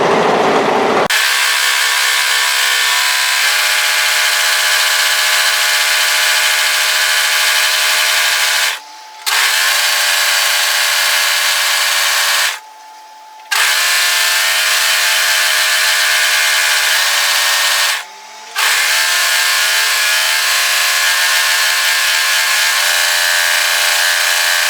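A 3-thread overlocker serges along an apron edge from one side to the other, a steady high mechanical whir running nearly continuously with three brief pauses where the stitching stops.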